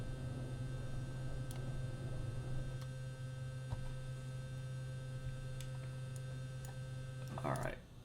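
An aircraft fuel pump runs on low in Microsoft Flight Simulator, a steady electric hum that holds level throughout, broken only by a few faint clicks and a brief louder switch noise near the end.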